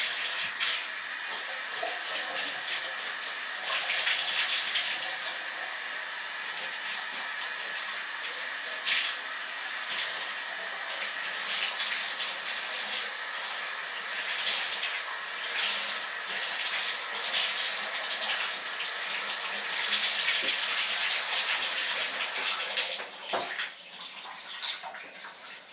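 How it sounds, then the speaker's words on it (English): A shower or tap runs steadily as hair is wetted, a continuous hissing spray of water with small splashy shifts, close and fairly loud throughout. "Basically, I just get my hair wet."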